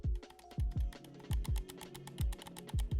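Glorious Model O2 Pro gaming mouse buttons clicking, a string of sharp, close, crisp clicks in an uneven quick rhythm with no talk.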